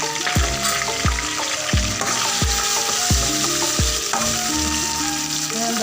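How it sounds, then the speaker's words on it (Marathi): Red chili powder sizzles loudly in hot oil for an egg curry, a close, steady frying hiss broken by regular knocks of a spoon stirring the pan. "त्यानंतर लाल मिरची पावडर टाकूया."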